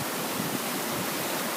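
Floodwater after an Easter storm rushes in a continuous broadband roar, steady and fairly close, with no talking.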